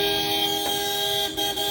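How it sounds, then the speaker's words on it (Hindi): Car horns toot on a busy street, several honks layered over steady traffic noise, fairly close and loud with no talking. "भाई कितने हॉर्न बजते हैं"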